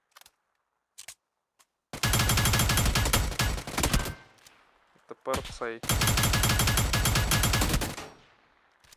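Two long bursts of rapid automatic gunfire from a UMP45 submachine gun in the mobile game New State Mobile, loud and close, separated by a pause with a brief voice and mechanical clicks; faint talk at the start.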